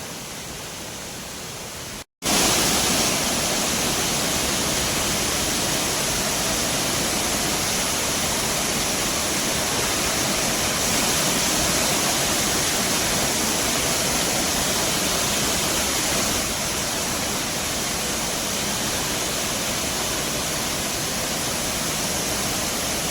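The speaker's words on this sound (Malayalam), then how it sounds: "ഇതാ കാണുന്നതാണ് വെള്ളച്ചാട്ടം" The Idinjar Mankayam waterfall in Kerala roars, filling the air with a loud, constant rush of water that starts abruptly after a brief quieter moment and never lets up.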